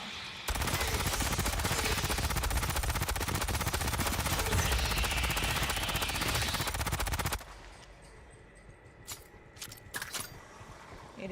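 Sustained automatic gunfire from a shooter in Aliens: Fireteam Elite, fired at alien eggs: a loud, dense, continuous burst for about seven seconds that cuts off abruptly, leaving quieter game ambience with a few scattered clicks and small impacts.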